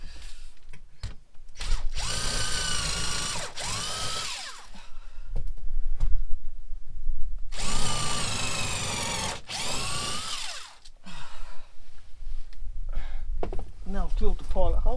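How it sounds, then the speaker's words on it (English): A power drill whirs in long, loud bursts, drilling a pilot hole, with pauses between them, alongside clattering handling noises and a bit of background talk. "Now the next one is to drill a pilot hole."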